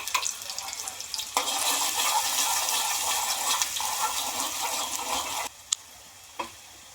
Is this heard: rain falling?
no